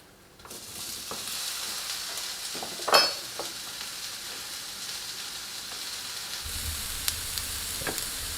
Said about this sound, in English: So just give it a little stir around. Make sure you're mixing in the onions with the peppers.